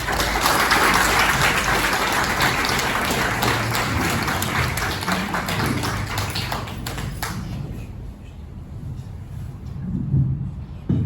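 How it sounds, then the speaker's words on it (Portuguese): An audience at a tribute to a popular poet at Casa de Macau de Portugal gives a loud round of applause that holds steady for several seconds, then fades to scattered claps. "E vou dar a palavra já ao Jota, pedir para ele uma grande salva de palmas"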